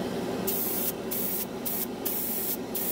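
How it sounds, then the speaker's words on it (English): Cheap $20 airbrush spraying primer onto a scale model, a close steady hiss of atomised paint in several short bursts cutting in and out over a constant background rush. "cheap airbrushes lay down a simple paint"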